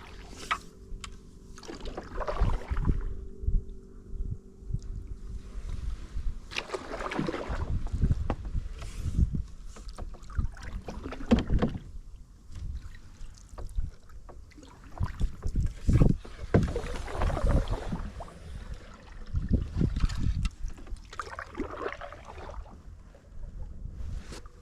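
A canoe paddled with a canoe paddle on a marsh in Polk County, Wisconsin: irregular splashes and dripping water strokes close to the microphone, mixed with wind buffeting and occasional brief voices.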